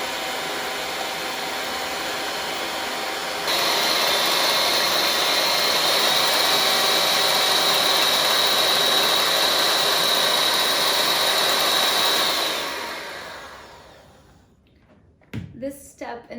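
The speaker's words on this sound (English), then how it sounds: "now it's time to froth your egg whites" An electric mixer frothing egg whites for an almond cake, a loud steady whirring hum that jumps up a step in speed, runs for several seconds, then winds down to quiet, followed by a few brief knocks.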